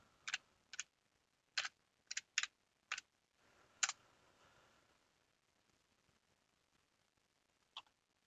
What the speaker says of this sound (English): Let's type in black.